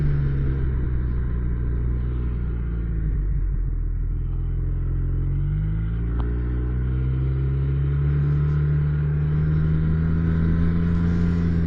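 A snowmobile rides through the night with a steady, loud engine rumble that dips and then rises again, sounding close and continuous, with no voices.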